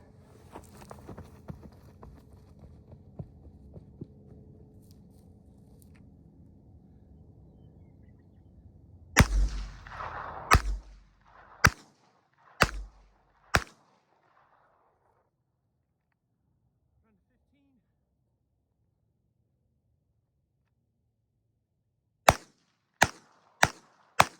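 Handgun shots on a target range during timed headshot practice from about 25 yards, fired by a tired shooter: two loud cracks around nine to ten seconds, three quick evenly spaced shots after, then three more rapid shots near the end.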